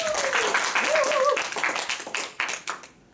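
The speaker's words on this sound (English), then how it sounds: "Let's give her extra applause." Applause from a small audience at a speech evaluation meeting, mixed with brief voices and cheering early on, then fading into scattered claps before trailing off.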